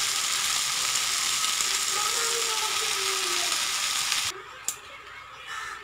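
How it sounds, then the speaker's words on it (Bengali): Spinach leaves tipped into a pan where potatoes and brinjal are frying, giving a loud, steady sizzle that cuts off abruptly near the end, followed by a brief clatter and quieter hiss. "এবার আমি যে কেটে রাখছিলাম পালং শাকগুলো ওগুলো দিয়ে দেবো।"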